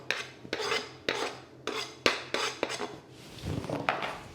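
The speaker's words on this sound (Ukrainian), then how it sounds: "І хорошенько все нам треба перемішати." Chopped potato mixture with dill being stirred in a bowl, each stroke bringing a rhythmic scrape and clatter of utensil against the bowl, about eight close, distinct strokes followed by softer mushy mixing.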